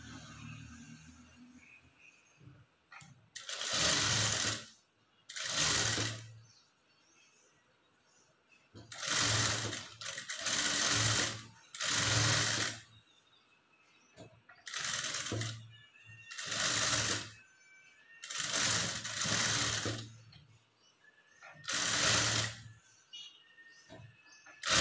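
An electric sewing machine stitches a blouse sleeve in repeated bursts of fast whirring, each lasting a second or two, separated by quiet pauses with faint handling sounds.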